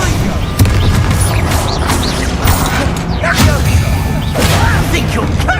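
Bombarda explosion spell cast in combat in Hogwarts Legacy on hard difficulty: a dense, continuous barrage of booming blasts, whooshes and sharp impact cracks, loud and layered over a rumbling low-end bed for several seconds.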